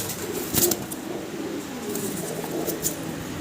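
Many pigeons kept for sale in pairs coo softly at a loft, with low murmuring calls, a brief wing flutter and scattered higher chirps over constant background noise.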